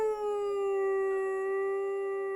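A person's voice imitates a dog howling, one long sustained mournful tone that holds steady and close for a couple of seconds.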